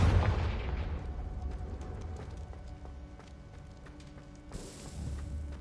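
A Confringo blasting spell goes off in a wizarding video game, a loud broadband burst that decays into a rumbling, crackling tail, with a second brighter swell near the end.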